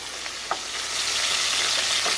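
Turkey berries fry in oil with a steady close sizzle and a few sharp pops and splatters breaking through, no voices present.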